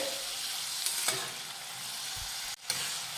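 Onion frying in oil until light pink, a steady close sizzle under a couple of spoon scrapes and a brief clatter, with a short break near the end.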